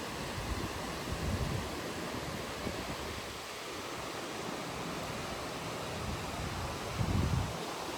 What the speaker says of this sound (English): Honestly, I could have stayed there for hours just watching and listening to the falls